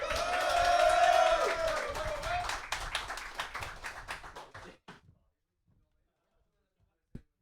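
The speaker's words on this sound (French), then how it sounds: "Tom, s'il vous plaît, un tonnerre d'applaudissements." Crowd applause swells at an esports tournament opening ceremony, dense clapping peaking early then thinning into scattered claps and fading to near silence, with a single sharp tap near the end.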